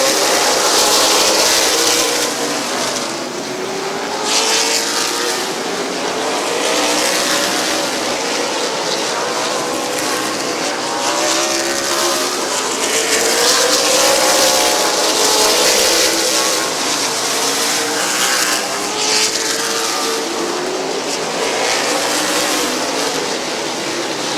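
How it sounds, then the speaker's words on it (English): Race cars roar around Midvale Speedway in a continuous, loud wash of engine noise, with rising and falling notes as cars pass close by on the track. "Bud Perry's shooting out to the race lead with almost a half a straightaway"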